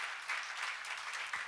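A congregation applauds during a church sermon, a faint, fairly steady patter of clapping heard from a distance with a few sharper claps rising near the end.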